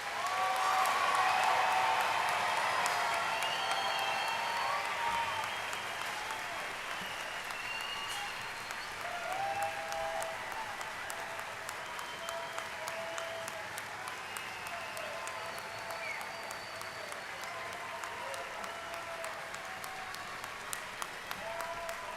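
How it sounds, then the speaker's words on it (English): Sustained audience applause for graduates at a Delano High School graduation ceremony, loudest at the start and slowly tapering into a steady patter of clapping, with faint voices and cheers mixed in. "Let's have a round of applause for our graduates."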